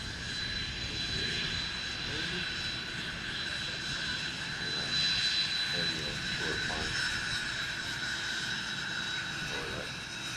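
A jet-powered STOL aircraft flies the traffic pattern at a STOL competition, its steady engine roar and high whine sustained throughout, with an announcer talking over it.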